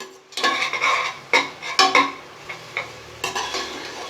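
Spatula scraping and stirring ginger garlic paste in a hot pan, with irregular clinks and scrapes and a light sizzle underneath, close and fairly loud.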